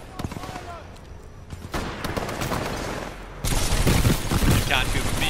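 Gunfire in Titanfall 2: dense bursts of shots that grow louder and busier in the second half, crowding the scene with rapid reports.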